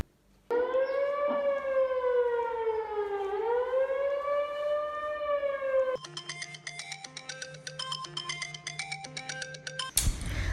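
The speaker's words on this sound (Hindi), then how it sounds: "अब सहरी का सायरन बजा" A sehri siren sounds during Ramadan with a loud, steady wail that rises and falls, then gives way to a looping electronic alarm melody, ending in a brief burst of noise.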